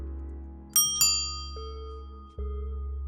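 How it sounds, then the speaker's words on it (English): Two bright metallic bell strikes ring out close together, followed by a softer tone and a low thud, each leaving a lingering hum. "Metallic bell."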